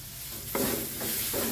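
Dried chilies and shrimp sauté in a hot pan with a steady sizzle, while a spatula scrapes and stirs in two or three brief strokes close by.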